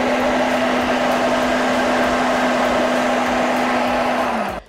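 A food processor minces beetroot and potatoes, a loud steady motor whir with a high grinding hum that runs continuously and then winds down and stops.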